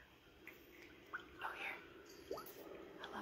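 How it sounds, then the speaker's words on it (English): Water drips inside a JM Aria diffuser, a few soft irregular plinks and gurgles over a quiet steady hum, faint and close. "besides the water dripping itself, the sounds, love it"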